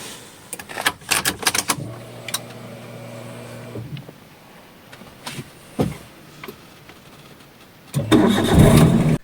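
A car engine cranks and catches with a few sharp bursts, settles into a low idle for a couple of seconds, then revs loudly near the end, heard up close with clicks and handling noises around it.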